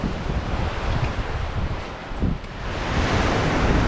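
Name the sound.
strong wind on a mountain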